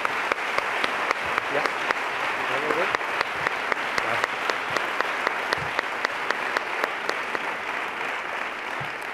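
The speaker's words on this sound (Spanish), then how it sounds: "le podemos dar un aplauso" Applause from a gala audience during a Seville Holy Week celebration, steady dense clapping with sharp individual claps standing out throughout, a brief spoken word heard over it.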